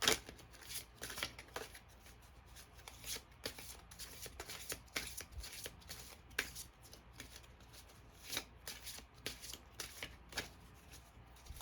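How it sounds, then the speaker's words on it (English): Large tarot cards are shuffled by hand in repeated quick riffling bursts with short pauses between, close and fairly quiet, with no talking. "Maybe I'll shuffle this way. These are bigger cards."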